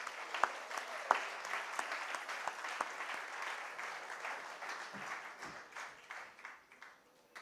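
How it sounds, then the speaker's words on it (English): An audience at Twinkle Khanna's book launch applauds the author, a moderately distant patter of many hands with a few sharper near claps, gradually thinning and fading toward the end. "let's just give a big round of applause to this Renaissance woman"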